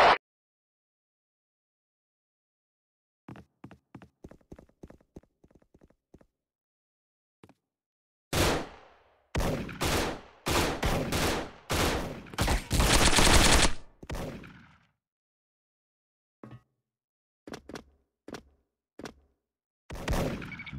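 Gunfire bursts in the online shooter Special Force Online, on a Shanghai team-mode map. A sparse run of quick single shots comes first, then a dense stretch of loud rapid automatic fire after a silent pause. A few isolated shots follow.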